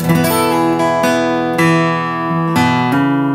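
Plucked guitar notes rolling out one after another in a picked arpeggio, each string ringing on as the next sounds, with quick note changes between, close and clear.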